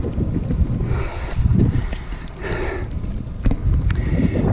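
Loud buffeting wind roaring across the microphone in gusts from a headwind while cycling, rising and easing, with no other clear sounds.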